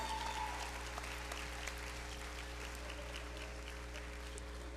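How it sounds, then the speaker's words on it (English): A graduating law school class applauds at a hooding ceremony, a steady wash of clapping heard faintly and at a distance over a constant low hum. "Give yourself a round of applause."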